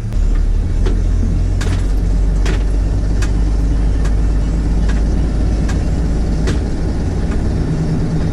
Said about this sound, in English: I'm in a big yellow bus right now.